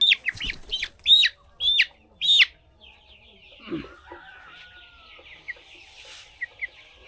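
Layer chickens cluck nearby in a series of sharp, loud calls at the start, then quieter scattered clucks and faint background noises follow in an otherwise calm setting with no talking.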